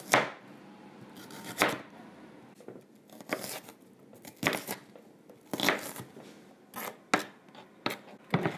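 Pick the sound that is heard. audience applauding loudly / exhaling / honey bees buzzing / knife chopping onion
knife chopping onion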